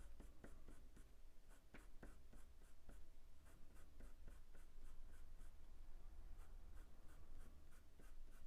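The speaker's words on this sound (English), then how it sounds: "I just want to make sure I've got enough pencil down to get these whiskers in." A pencil sketches cat whiskers on paper with steady scratchy strokes, broken by repeated quick taps and flicks of the graphite. The sound is close and dry over faint background hiss, with no one talking.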